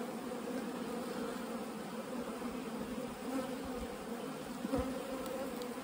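A dense mass of honey bees packed into a hive box from a late-season bulk bee split gives off a steady, close, continuous buzzing hum that never breaks.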